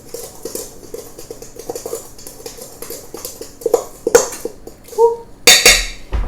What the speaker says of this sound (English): Half a cup of brown sugar. 1/3 cup of white sugar. And then give it another stir.